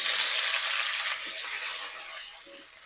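Chopped onion fries in hot mustard oil with bay leaf, dried chilli and whole cumin, giving a steady close sizzling hiss that slowly fades.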